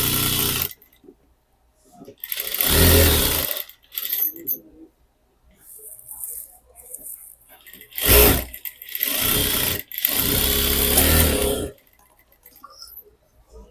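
A sewing machine stitches the fabric of a blouse in several separate bursts of fast, rattling clatter, each lasting one to two seconds, with quiet pauses and small handling noises between runs.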